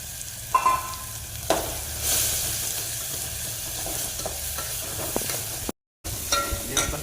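Mustard seeds and cumin frying in hot oil for a flattened-rice and potato dish, a close, steady crackling sizzle with spoon stirs and a few sharp pops, briefly cut to silence near the end.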